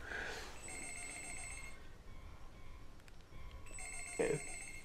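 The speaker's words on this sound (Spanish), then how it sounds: "¿Un teléfono?" A telephone rings faintly in two bursts of electronic trills, one at the start and another near the end, with a quiet murmur of room noise between them.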